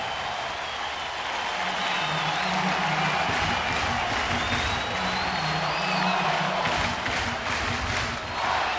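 A baseball stadium crowd on its feet during a St. Louis at Kansas City game in 2009 roars and cheers in a steady, dense wash that continues without pause.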